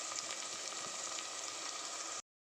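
Onions fry in a pan for a Nellore-style small fish curry with a steady, even sizzle and crackle that holds at moderate loudness, then cuts off abruptly.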